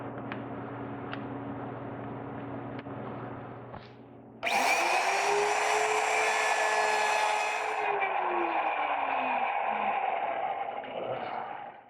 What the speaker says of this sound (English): Now I'll remove the majority of that mortise with my router.